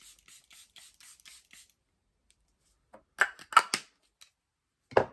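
A series of quick, soft spritzes from a Charlotte Tilbury makeup setting spray bottle, about six light pumps, then a pause and a few sharper, louder sprays.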